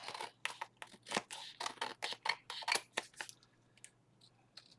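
Scissors trim paper for a journal, a quick series of crisp, close snips in an uneven rhythm, followed by a quiet pause.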